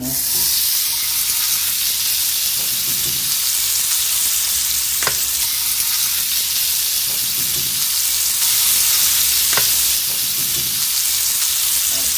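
Steak sizzling in hot oil in a pan, a steady close, loud frying hiss that runs unbroken throughout, with a couple of brief sharp pops standing out above it.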